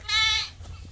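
A single goat on a farm lets out one short, loud, quavering bleat close by, followed by faint rustling.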